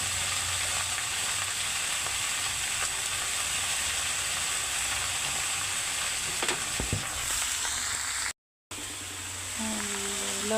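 Sweet pumpkin frying in a pan, a dense steady sizzle heard close with occasional stirring scrapes, continuous with no talk apart from a short silent gap near the end.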